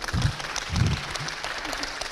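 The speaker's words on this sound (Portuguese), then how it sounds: "Ok, você aplaudiu" An audience at a university spiritual talk breaks into applause, two brief bursts of clapping rising and fading over a low room murmur.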